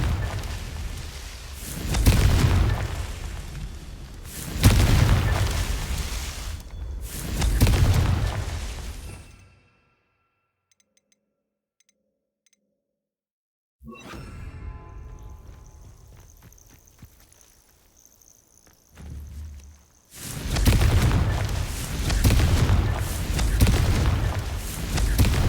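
Confringo spell blasts in a wizarding video game: several heavy booming explosions with rumbling tails, a long silent gap, then scattered crackling debris and a final sustained roaring burst.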